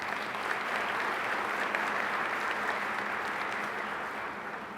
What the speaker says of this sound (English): Let's give Representative Carter a round of applause.